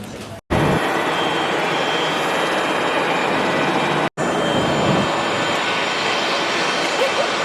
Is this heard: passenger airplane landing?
yes